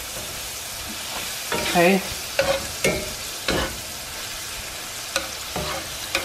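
Food frying in olive oil in a pan, a steady sizzle punctuated by loud scraping stirs and clanks of a utensil, close up, with one brief spoken word.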